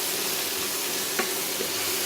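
Cubed tomatoes go into a frying pan for chickpea curry, producing a soft, even hiss with a couple of faint clinks, fairly quiet and close.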